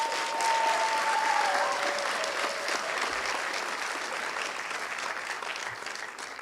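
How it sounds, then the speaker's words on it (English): An audience at a university student affairs awards ceremony applauds its award recipients, a steady wash of clapping that starts loudest and slowly tapers, with a faint brief tone near the start. "So please give our award recipients another round of applause."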